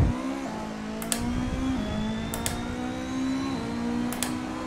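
Ford Escort MKII rally car in a racing game, engine screaming flat out in a loud, steady high drone with a few sharp upshifts and bumps, no talk.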